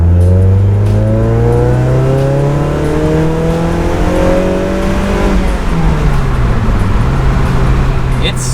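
Car fitted with a RoadsterSport Super Q muffler accelerating hard from about 20 mph with the windows down, the engine note climbing smoothly toward 6,000 RPM, then easing off and settling back lower; the exhaust stays loud but restrained.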